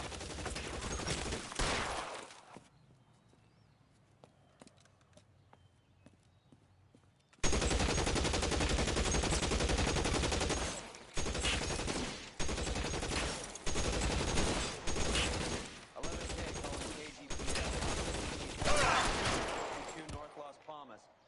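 Bursts of gunfire in the LA Noire video game, a dense, loud fusillade with a short burst at the start, a quiet lull, then sustained rapid shooting in clustered volleys.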